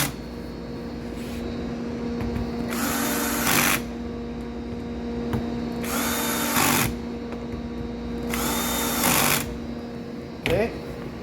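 Power drill driving screws into a DTC Legacy Endura drawer during assembly, three loud whirring bursts about two seconds long separated by pauses, over a steady background hum.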